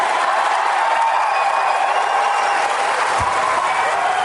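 An audience applauds steadily and fairly loudly throughout, a dense, even wash of clapping with no talk over it.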